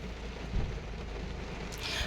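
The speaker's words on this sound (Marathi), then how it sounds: "पाऊस चालू आमच्या इथं" A steady wash of rainfall hisses continuously over a low rumble, with a brief thump and a faint brighter patter near the end.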